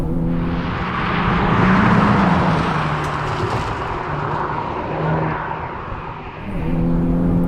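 Engine of a 2021 Honda Civic Type R Limited Edition revs with a steady, loud, turbine-like drone that swells and eases across the span, with no one speaking.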